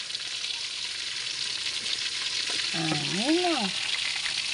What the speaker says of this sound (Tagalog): Nagpiprito pa lang guys.